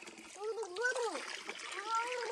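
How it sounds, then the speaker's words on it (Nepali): Water splashes as someone washes their face at a riverside, a soft, continuous splatter at low level under a voice talking over it. "मुख धुँदैछ"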